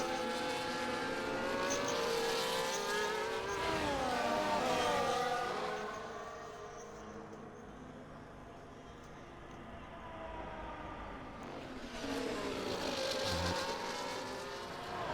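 Race cars screaming around a track in a racing video game set at Abu Dhabi, engines rising and falling as cars pass close, loud and continuous, with a quieter stretch in the middle before another roaring pass.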